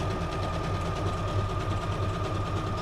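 A sewing machine stitches slowly on a long stitch setting while making small paper junk-journal tags, producing a steady, close mechanical hum with a fast rhythmic needle chatter and no speech.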